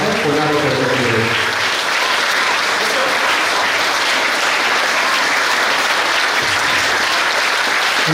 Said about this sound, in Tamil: பலத்த கரகோஷம் எழுப்பி அவருக்கு நம்முடைய நன்றியை நாம் தெரிவிக்கிறோம்